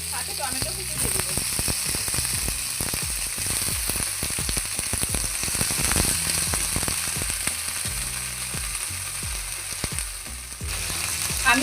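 Chopped tomato sizzles loudly in a frying pan for a vegetable lentil dish, a dense continuous crackle and hiss with bursts of spattering close up, steady from start to finish.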